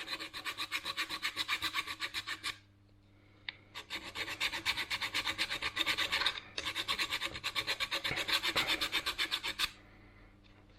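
Galvanized coating being scraped off a Lambretta TV175 scooter part, rapid rhythmic rasping strokes in three close, loud bursts separated by short pauses.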